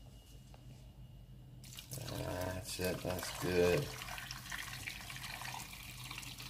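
Chicken stock poured into a pot for a durian chicken hotpot, a gurgling splash of liquid starting after a quiet moment and running a few seconds, close by, with people talking over it.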